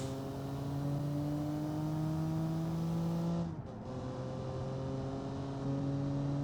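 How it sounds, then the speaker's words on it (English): A racing game car held at full throttle, a steady engine drone with rising harmonics that briefly dips mid-clip as it shifts, then pulls on loud and continuous with no talking. "And now we'll floor it towards the line, and we'll start your second timed lap."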